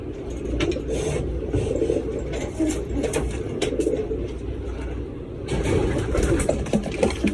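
Racing pigeons back from training coo softly around the loft while a low engine hum runs underneath, growing slightly louder toward the end.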